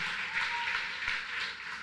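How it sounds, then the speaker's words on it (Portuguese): A church congregation at a live praise and worship service applauds, producing a dense, steady wash of clapping throughout the short stretch. "Dá uma salva de palmas para Jesus pela vida do missionário André."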